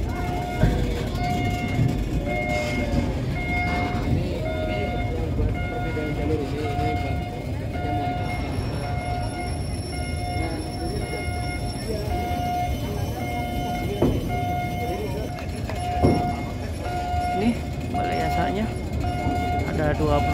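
A train rolls along the rails inside the Balai Yasa Manggarai railway depot during an open house, a steady near rumble with a sustained tonal whine, while people talk over it.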